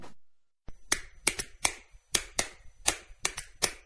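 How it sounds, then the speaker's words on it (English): Sharp, crisp claps from a Fan Hands sports-fan clapping accessory ring out about eight times in an uneven rapid rhythm, loud and close after a brief silence, with no voices. "What's the universal language of a fan? Clapping your hands."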